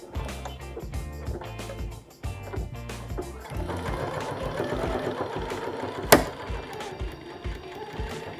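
A sewing machine stitches a fabric soap pouch in short, rhythmic bursts that speed into a continuous run, close and clear, with a sharp click partway through and no one talking.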